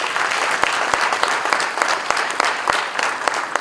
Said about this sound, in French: Voilà, nous applaudissons encore.